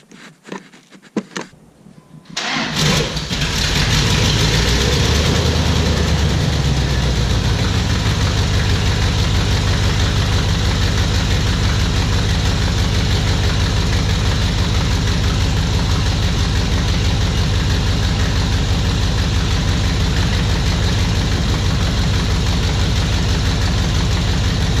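A second-generation Ram truck that has sat unused for over a year cranks briefly, fires up and settles into a loud, steady, close idle with a rough, knocking rumble. No one talks.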